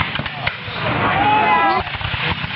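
Black powder musket volleys at an outdoor battle re-enactment on a sunny day, a loud sustained roar of gunfire with sharp cracks, voices shouting over it.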